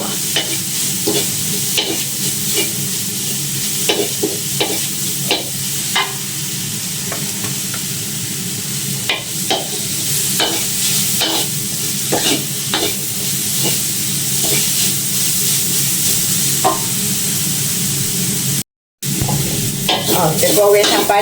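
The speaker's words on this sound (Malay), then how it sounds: "Goreng tanpa minyak." Fern shoots fry in a pan without oil with a steady sizzle, while a utensil scrapes and taps the pan over and over; one brief silent break near the end.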